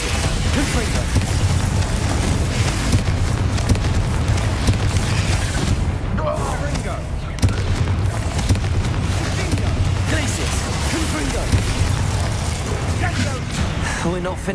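Confringo fire spells exploding in Hogwarts Legacy combat, a continuous dense barrage of booms and blasts under loud game music and effects, with a voice shouting spell names throughout.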